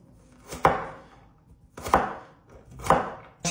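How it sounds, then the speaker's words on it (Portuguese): A knife chops carrot on a board in three separate bursts of quick, close thuds, each trailing off before the next, with no talking. "Ó, piquei toda a cenoura aqui bem picadinha."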